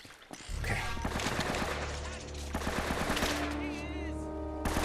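Gunfire in Uncharted: Drake's Fortune: a dense burst of rapid shots up close, then sustained game noise with echoing reports and a tonal whine, some speech faintly mixed in.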